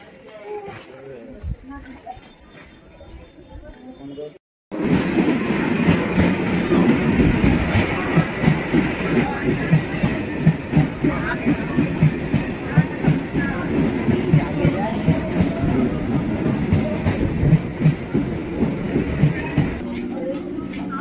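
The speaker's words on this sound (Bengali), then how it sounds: "চলো ট্রেন আসুক, তারপরে তুলে দিয়ে আসি।" A passenger train pulls into a railway station with a sudden loud onset, then a steady rumble and rhythmic clacking of wheels over rail joints, while people talk nearby.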